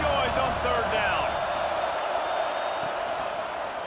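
A stadium crowd roars on third down in the College Football 26 video game, a dense, steady wash of cheering and noise that stays loud throughout with faint whistles and calls on top.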